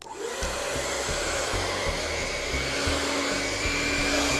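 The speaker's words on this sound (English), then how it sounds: "I'm going to go in and blow dry my client's hair just the way she wears her hair on a daily basis." A hair dryer blow-drying a client's hair in a salon during a Keratin Complex express blowout gives a loud, steady, close whooshing hum that runs continuously on its own.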